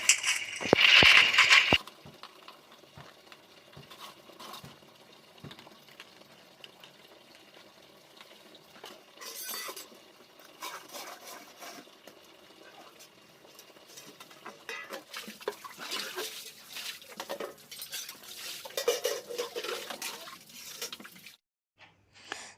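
Dishes scrubbed and washed by hand, with running and splashing water. A brief loud gush opens, followed by quieter clinks, drips and scrubbing that build again toward the end, close by and with no talk.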